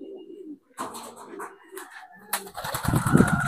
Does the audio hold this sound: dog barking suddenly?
no